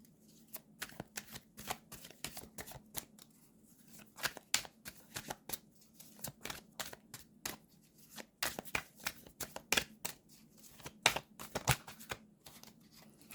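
A deck of tarot cards is shuffled by hand, giving a long run of crisp, quiet riffling clicks in uneven bursts, with no talk.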